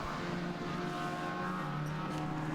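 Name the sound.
TVR race car leaving the pits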